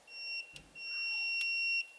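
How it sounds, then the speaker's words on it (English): A multimeter's continuity buzzer gives a steady high-pitched electronic beep alone, briefly cut off by two sharp clicks. "if I put this meter on the continuity buzzer"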